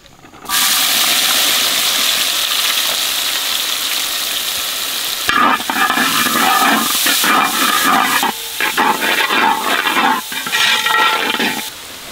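Sliced onions with green chillies sautéing in oil with cinnamon and fennel, a loud continuous sizzle broken from midway by scraping, clattering stirring strokes against the pan.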